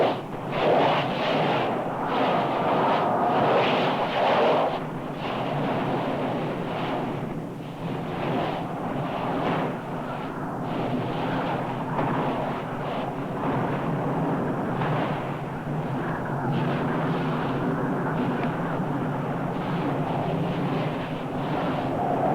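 Lava rising and churning in the fire pit of Nyiragongo volcano's lava lake, heard as a continuous loud, deep roaring rumble with surging swells that carries on throughout, without talk.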